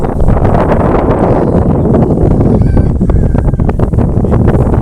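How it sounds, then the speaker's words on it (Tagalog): Strong wind roars continuously across the microphone on a mountain summit on Catanduanes Island, a heavy buffeting rush that stays loud throughout with no pauses. "Sorry po, malakas ang hangin."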